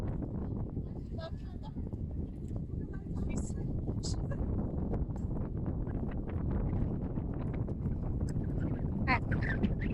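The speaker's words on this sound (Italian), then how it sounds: "Guardate quanto è forte il vento." Strong, sudden wind gusting at Bryce Canyon, a loud continuous rumbling roar that buffets the microphone for the whole stretch, with brief faint higher sounds scattered through it.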